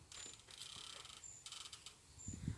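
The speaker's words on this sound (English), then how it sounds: "It's like just creaking." Creaking sounds in the woods come as several faint, squeaky bursts in a quiet setting, followed by a low knock near the end.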